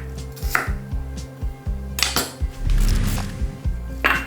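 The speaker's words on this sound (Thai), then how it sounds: "ทำการหั่นและซอย หอมใหญ่และต้นหอมกันเลยนะครับ" Knife slicing onions and spring onions on a cutting board in uneven bursts, thudding blade strikes mixed with clatter of a pan or dish nearby, no voices.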